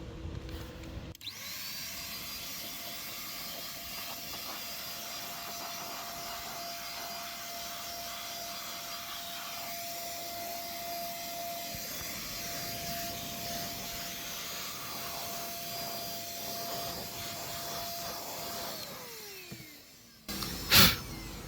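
An air blower runs steadily while dusting a mining shed, a continuous whooshing roar with a steady tone held for about eighteen seconds before it winds down and stops, close and fairly loud.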